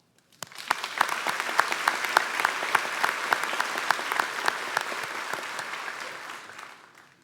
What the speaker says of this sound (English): I would like to take a moment to give all of the faculty and staff at White House a round of applause.